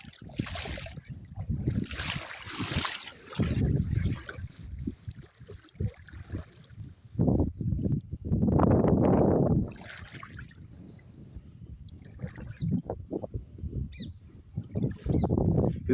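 Water flows and splashes in the Tammileru stream. The rushing and sloshing comes in uneven surges, loud and close at times and then quieter, with brief lulls between the bursts.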